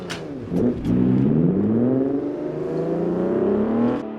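A car engine in a sim racing video game revs up and holds a steady climbing drone for several seconds, fairly clean and alone.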